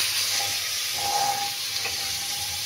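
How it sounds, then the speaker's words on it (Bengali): Spices frying in soybean oil and butter produce a soft, even sizzle close by, with faint stirring clicks over the steady hiss. "মশলাগুলো একটু ভেজে নেব। তার জন্য একটু সয়াবিন তেল দিয়ে দিলাম, ওর সঙ্গে একটু বাটার দিয়ে দেব।"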